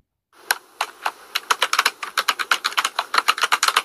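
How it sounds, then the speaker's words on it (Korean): Rapid keyboard typing, crisp individual keystrokes clattering in quick irregular bursts, close and clear with no voices. "타이핑과 효과음이 일치하죠."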